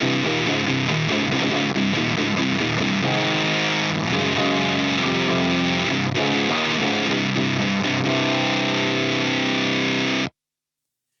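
Electric guitar with distortion off, chords and riffs played continuously for about ten seconds, bright and loud, then cutting off sharply.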